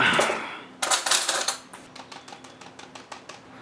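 A spoon scoops and clinks through whey protein isolate powder in a container, first with a few louder scrapes and knocks, then a quick run of light, sharp taps, close by with no talk.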